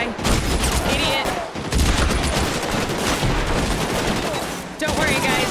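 Heavy gunfire in an online shooter video game: loud, continuous bursts of rapid shots with a brief lull partway, mixed with faint voices.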